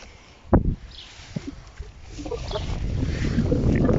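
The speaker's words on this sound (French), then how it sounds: "il n'y avait pas de vent il y a 5 minutes, ça y est, boum" Wind rises outdoors over a vegetable garden in late May, a broad blustery rush that builds steadily from moderate to loud and buffets the microphone, with a brief knock near the start.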